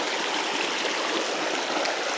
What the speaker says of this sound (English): Right here at this waterfall